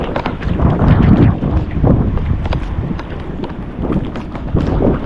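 Strong wind buffets the microphone in loud, gusty rumbles that rise and fall throughout, with no clear voices.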